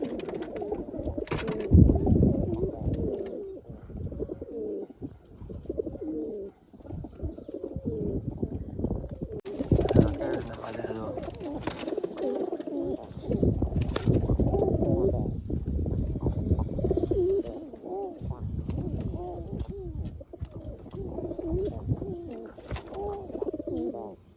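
Pigeons cooing inside a pigeon loft, soft repeated low coos close by, heard beneath someone talking for most of the stretch.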